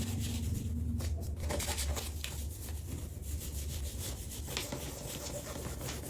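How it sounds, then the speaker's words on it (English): A burnishing tool rubs firmly over a beach-themed stencil transfer, giving a steady, close scraping and rubbing sound that runs without a break and with no voices. "we're just going to grab our burnishing tool and we're just going to burnish this right on"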